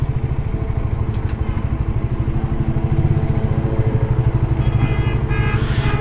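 A Suzuki GSX-R150 motorcycle idles at a fuel station, its engine putting out a steady, low, rapid thrum that stays near and constant while faint background clatter comes and goes.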